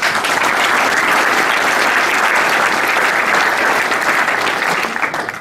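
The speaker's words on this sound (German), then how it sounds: "Ihnen gebührt einen herzlichen Applaus." A seated audience gives steady, full applause at a building-materials recycling event. The dense clapping holds at an even volume, then tapers off at the very end.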